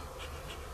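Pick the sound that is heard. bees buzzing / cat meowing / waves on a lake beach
bees buzzing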